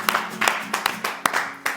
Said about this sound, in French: on applaudit pour les filles